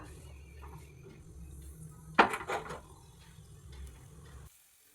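A single sharp metallic clank as a pan is set down on a stove to heat coconut oil, ringing briefly before a quiet kitchen background returns.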